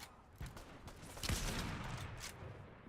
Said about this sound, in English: There's some gunfire going on just behind.